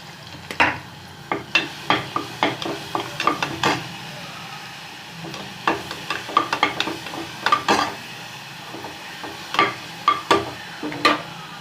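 Pounded onions going into a pan of hot oil for mutton breastbone soup, with a run of sharp spoon-against-pan stirring knocks and scrapes in bursts over a low sizzle, close by and with no talk.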